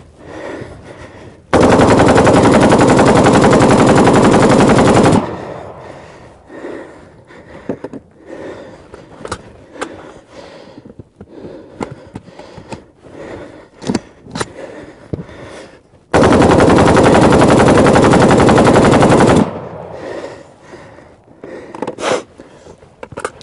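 A Kalashnikov AK rifle rattles off two long, loud sustained bursts of automatic fire, separated by a stretch of scattered clicks, shuffling and faint handling noises.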